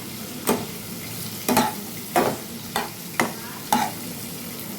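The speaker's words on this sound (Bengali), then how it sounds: "তেল গরম হলে পরে আমি একটা বড় পেঁয়াজ কুচিয়ে এর মধ্যে দিয়ে দিয়েছি। আর এর সাথে দিয়ে দেবো বেগুনের টুকরো।" Eggplant pieces and chopped onion frying in hot oil, a constant sizzle punctuated by six evenly spaced spatula stirs scraping the pan, close and clear with no talking.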